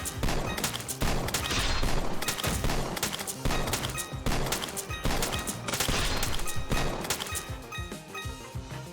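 Rapid sword strikes hitting enemies in the Roblox game Too Many Weapons Simulator, a loud stream of sharp, crashing impacts in quick repeated bursts, layered over busy game effects and music.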